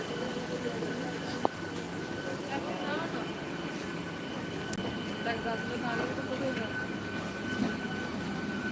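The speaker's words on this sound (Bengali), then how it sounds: "এখানে একটা ট্রেন আবার একটা এসেছে লোকাল ট্রেন এটাও হাওড়া যাচ্ছে" A steady low rumble of a local train bound for Howrah rolls along beside a station platform, with faint squeals and a sharp clank, distant voices murmuring underneath.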